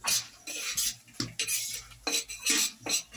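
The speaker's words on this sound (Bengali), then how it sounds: "প্রথমে আমি শুকনা মরিচগুলো হালকা ভাজা নিব।" Dry red chillies being lightly fried in a pan for pickle, with a utensil clinking and scraping against the pan in a series of short, uneven strokes, close and alone.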